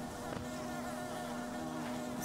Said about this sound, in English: There's a lot of these bees.